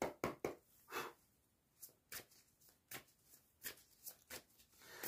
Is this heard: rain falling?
no